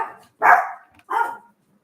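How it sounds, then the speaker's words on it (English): Two loud, close dog barks ring out about half a second apart, with quiet gaps between them and no talking. "the dogs are barking"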